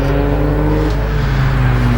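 A Mazda MX-5 race car at a lakeside hillclimb event holds a loud, steady engine drone close by for two seconds, with no voices.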